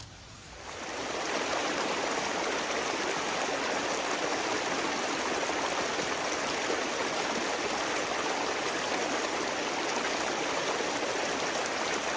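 A waterfall roars in a steady, dense rush of water that swells in during the first second and then holds loud and unbroken.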